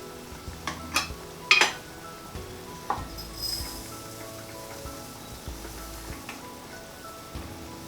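Dried lentils stirred into stock with tomato puree in a pan, soft scraping and occasional clinks of a utensil against the pan over a faint sizzle, close and quiet, with scattered sharper knocks and no talking.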